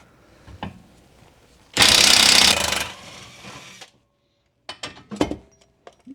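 Impact or power tool backing a bolt out of the rear shock mount on a 2004 Mazda 3, one loud rattling burst lasting about a second, then quieter whirring and a few sharp clanks and clicks.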